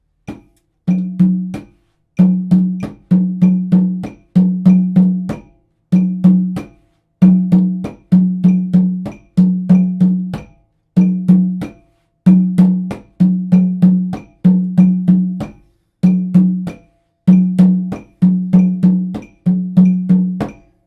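Hand percussion playing a repeating rhythm cell of tone and open strokes, crisp hits grouped in short bursts with brief gaps, steady and loud, with no voices.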